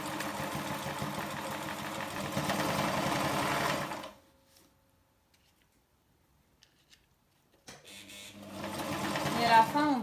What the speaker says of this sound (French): on essaie de passer la couture en 2 mm de notre bord